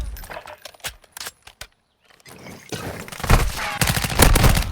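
Gunfire from a 20-round magazine in a Call of Duty match: sharp, loud shots crack in a quick burst, a short lull, then dense, sustained firing and explosive noise builds toward the end.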